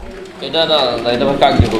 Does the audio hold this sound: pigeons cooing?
yes